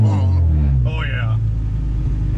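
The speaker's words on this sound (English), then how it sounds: "That launch control sounded sick though." Acura Integra with a K24 engine on E85 holding launch control, a loud deep rumbling idle-rev drone steady throughout, with a voice speaking briefly over it near the start.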